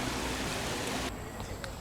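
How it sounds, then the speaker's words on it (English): Falling water from a waterfall fountain beside a tranquil lake at the entrance of Birmingham Zoo, a steady broadband wash that stays constant throughout, slightly quieter and thinner in the second half. "Right by the entrance of the zoo, there's a very tranquil lake and waterfall fountain area"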